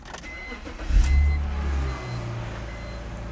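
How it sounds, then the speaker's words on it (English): A 2002 BMW 330i with a lean condition cranks and starts, its engine catching with a loud low rumble that settles into a steadier idle, heard close up. "I'm gonna go ahead and start the vehicle up."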